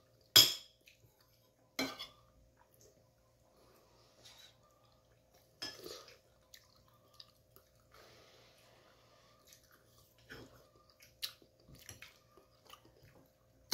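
Metal cutlery clinks and scrapes against dishes during a home lunch of mung bean soup, a handful of sharp scattered clinks with quiet chewing and soft handling noises between them, close and fairly faint.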